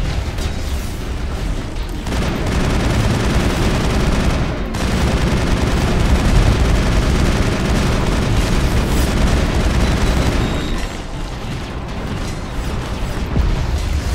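Heavy gunfire and explosions from Mass Effect combat against a walking tank with a powerful cannon: a dense, loud, continuous barrage of shots and booms that eases slightly near the end.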